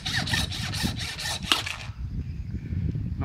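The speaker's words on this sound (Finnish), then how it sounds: "kun se on luuta, niin se on helppo sahata" Hand saw rasping through cattle bone during a beef slaughter, a steady back-and-forth run of rough strokes for about two seconds, then quieter scraping and handling noises.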